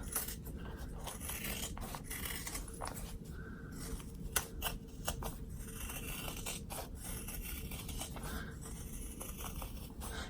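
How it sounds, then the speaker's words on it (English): Steady scraping and snipping of scissors cutting off excess zipper from a bag, with scattered sharp clicks, close and continuous throughout. "Now you're going to cut off the excess zipper and everything."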